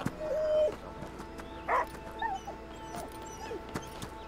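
A worried dog in the video game Last Day of June grumbles and whimpers in short, faint bursts over a quiet ambient background.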